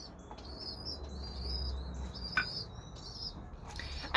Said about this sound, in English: we'll do Taako head time with Newt in the background, being a very poofy bird